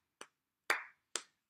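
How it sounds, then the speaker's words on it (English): Three separate hand claps from a sing-along group, sharp and fairly close, spaced irregularly with silence between them. "clap your hands"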